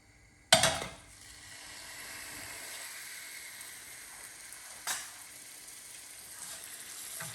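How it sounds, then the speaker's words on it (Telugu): Chicken pieces drop into hot oil with a sharp burst of sizzling, then a low, steady frying hiss continues, broken by one clink of a utensil midway; no talking. "ఇప్పుడు ఫస్ట్ ఈ చికెన్ పీసెస్ని ఫ్రై చేసుకుందాము."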